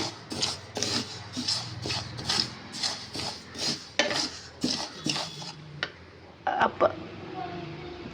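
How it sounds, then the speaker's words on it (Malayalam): Ragi is dry-roasted in a hot metal pan, and a utensil scrapes and clatters against the pan in quick repeated strokes, close and fairly loud, ending in a few sharper knocks. "ആ പാത്രം ചൂടാക്കി നമുക്ക് റാഗി വറുത്തെടുക്കാം കേട്ടോ."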